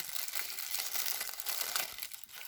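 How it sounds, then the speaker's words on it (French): Crinkly plastic and cardboard packaging is handled and torn open around a Hot Wheels super treasure hunt Batmobile toy car, with dense close crackling and crumpling throughout and no voices. "on va la déballer devant vous"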